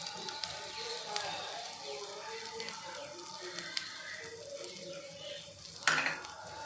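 Grated coconut is stirred and roasted in ghee in a pan while making aval laddu; a soft, steady sizzle with light scraping strokes, and a brief sharper clink near the end.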